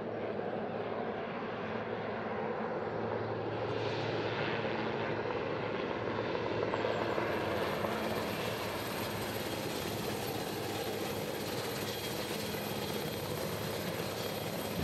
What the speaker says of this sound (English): The helicopter's here now.